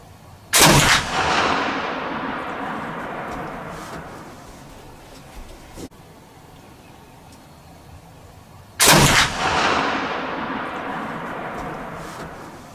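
A Kibler Woodsrunner muzzleloader rifle fires two loud, close shots several seconds apart, each a sharp blast followed by a long, fading roll of echo.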